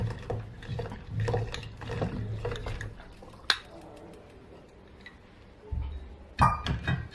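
Palm jaggery, 100 grams, goes into a litre of water, heard as soft clinks of glass and utensils, light sloshing and splashing in a quiet room, with a sharper knock midway and another near the end.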